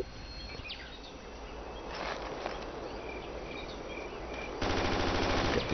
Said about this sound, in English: that's because of this suppressive fire that I'm throwing